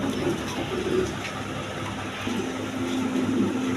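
Rajshahi Giribaj pigeons, kept in pairs with their squabs, coo in low, soft, repeated throaty calls over a constant loud background hum.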